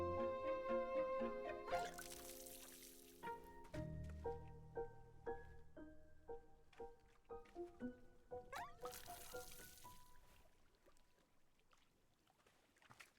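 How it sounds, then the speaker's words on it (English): Watering a plant egg with a watering can in the game Wanderstop: a series of soft, squishy liquid pours and drips mixed with bright chiming tones, moderately quiet with no talking. "you have successfully watered the plant egg"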